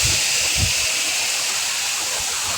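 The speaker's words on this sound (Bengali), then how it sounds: "দেখতেই পাচ্ছ বন্ধুরা, জিরা তেজপাতা ভাজা ভাজা হয়ে এসছে। এবার মশলাটা ঢেলে দেব" Spice paste hitting hot oil in a pan with fried cumin seeds and bay leaf, giving a loud, steady sizzling hiss close up, with a few low clunks at the start.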